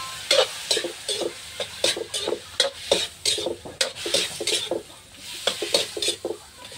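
Chicken back ribs sautéing dry in a wok with no oil. A spatula scrapes and stirs in quick, rhythmic strokes over a light sizzle, close and clear, with no voices.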